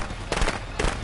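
Two short crackling bursts of fireworks from a video game, each a quick popping thud about half a second apart, fairly loud over a steady background hum with no speech.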